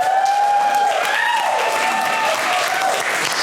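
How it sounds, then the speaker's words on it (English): Audience applause at a comedy show, a steady wash of many hands clapping continuously, with a faint tone and murmur underneath. "You clapping."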